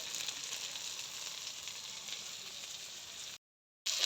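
Mixed vegetables frying in a pan, a steady close hiss and sizzle that runs continuously for a few seconds, then drops out briefly before resuming.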